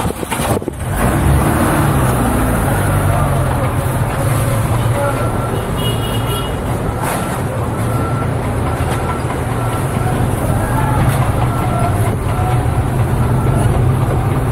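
A car drives through the Garbage City district, its engine and road noise forming a loud, steady rumble that runs the whole way with no break.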